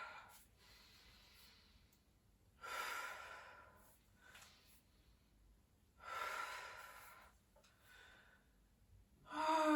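Slow, audible exhalations during a seated breathing exercise in a gym workout, soft airy breaths repeating at intervals of a few seconds, close and fairly quiet.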